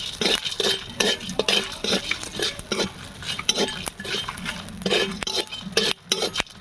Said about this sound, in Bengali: এটা আমি ভালো করে ভেজে নেব, সাথে একটু নুন দিয়ে এটা ভালো করে শুকনো কড়াই ভেজে নেব।